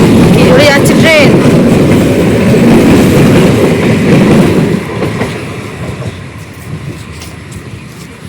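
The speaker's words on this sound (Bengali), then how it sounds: "কি জোরে যাচ্ছে ট্রেন" A train passes fast at Maltipur station, a loud close roar with rattling wheels and squeals that fades into a rumble after a few seconds, with people talking over it.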